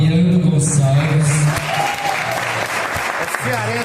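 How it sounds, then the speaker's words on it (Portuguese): Steady applause from an audience at an informal discussion circle in Belo Horizonte, fairly loud and continuous, with a voice speaking over it at the start and other voices murmuring through. "Eu quero também um aplauso de vocês aqui para o Fabiano Gonçalves."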